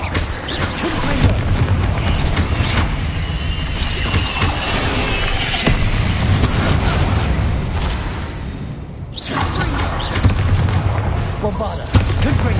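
Fiery Confringo spell explosions in a Harry Potter video game: a dense run of heavy booms and blasts follows in quick succession, loud and close, with a brief lull before more detonations.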